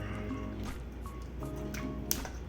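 Apple cider pressed through a fine mesh wire strainer makes soft, wet squishing and faint drips, close and quiet over a low background hum for a couple of seconds.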